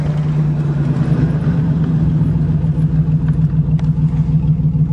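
A 1990 Buick Century with a 3.3 engine drives along, its steady mid-pitched engine drone and hum continuous and loud from inside the car, with faint rattles and no talk.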